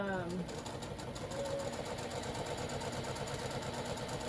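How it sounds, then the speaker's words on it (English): A sewing machine stitches a narrow seam on a purple water bottle bag, giving a steady, close mechanical whir and rapid needle rhythm that runs continuously, with a voice talking briefly at the start. "I'm trying to make a real narrow, like 1/8 of an inch seam here"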